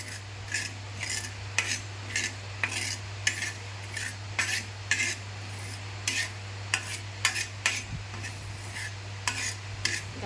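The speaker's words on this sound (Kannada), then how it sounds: "ನಾ ಇಲ್ಲಿ ಸಾಸಿವೆ ಹುರ್ಗಿಟ್ಕೋತೀನಿ ರೀ ನೋಡಿ ಸ್ವಲ್ಪ ಚಟಪಟ ಅನ್ನಂಗೆ ಹುರಿಬೇಕು ರೀ" Mustard seeds roasting in a pan pop and crackle in a steady series of sharp, close ticks over a constant low hum, with no voices.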